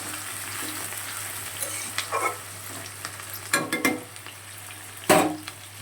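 Chopped onion and garlic frying in a pan after potatoes, a soft continuous sizzle with a few sharp stirring scrapes and clinks of a utensil, close by.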